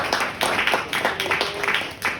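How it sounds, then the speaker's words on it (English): An audience at a Black Voices in Media panel discussion applauds, a fairly soft scatter of clapping that rises and falls in short bursts over a couple of seconds, with faint voices underneath. "let's give a round of applause to Brian McFadden"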